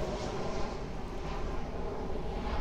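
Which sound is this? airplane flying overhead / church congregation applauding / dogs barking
airplane flying overhead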